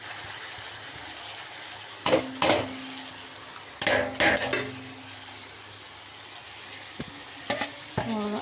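Chicken gravy sizzling and frying in a pan, with several short bursts of stirring and scraping spread over a steady background hiss.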